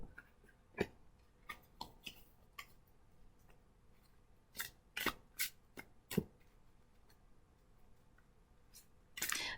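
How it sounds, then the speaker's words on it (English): Tarot cards being shuffled, soft papery riffles and light card taps in scattered bursts, close and quiet, with a clustered flurry of snaps in the middle and another near the end, no talking. "as I'm shuffling out these cards"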